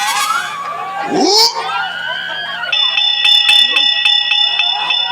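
A bell rings during a Kannada stage comedy play, sustained ringing tones with rapid repeated strikes, alongside crowd noise and shouting.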